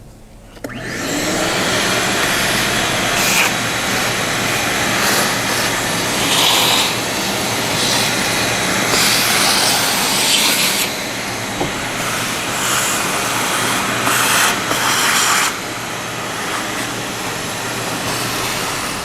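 A vacuum sucks debris from a car engine bay with a loud continuous roaring whine, the pitch shifting slightly as the nozzle moves, starting after a brief quiet moment.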